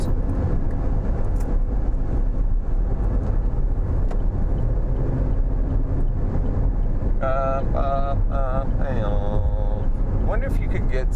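A car drives along with a steady low road and engine rumble plus wind buffeting, constant and close throughout; near the end, short tonal chirps and voices cut in over the drone.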